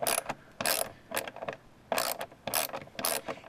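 Screws being undone on the air filter cover of a 2014 Ford Fusion Hybrid, a series of close, short ratcheting clicks in uneven bursts.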